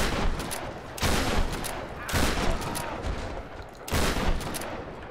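Rapid automatic gunfire during combat in the Tomb Raider 2013 video game: dense, loud bursts of shots crackling almost continuously, with brief dips between volleys.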